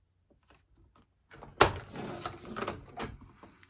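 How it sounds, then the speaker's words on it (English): A paper cutter or trimmer slices half an inch off two strips of patterned scrapbook paper, starting with a sharp snap-like thunk and followed by a short run of sliding, rasping cuts, close and alone after a quiet start. "I'm just going to cut a 1/2 inch off these 2."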